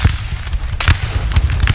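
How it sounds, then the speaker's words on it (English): Musket volleys crackle in a Napoleon: Total War battle with Russian forces, loud repeated bursts of ragged gunfire overlapping in irregular clusters against a low rumbling battlefield din, with no talk. "So lots of beautiful gunfire going on here."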